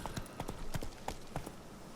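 Horse galloping in The Witcher 3 video game, rapid rhythmic hoofbeats thudding in quick clusters, fairly faint and steady over the two seconds.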